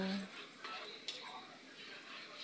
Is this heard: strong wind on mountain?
no